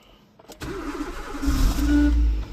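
An Alfa Romeo 159 car engine cranks briefly after a click, then catches and rises into a loud, rough idle that settles into a steady low rumble close by.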